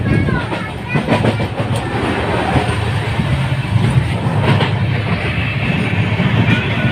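The Janhit Express runs along the rails with a loud, close, continuous rumble and a rhythmic wheel clatter that carries through the whole stretch.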